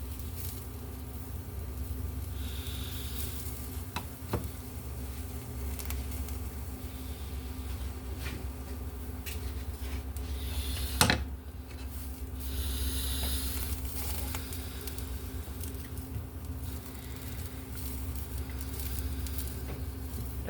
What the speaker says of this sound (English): I've got the eggs heating up. So we're going to just start stirring them immediately.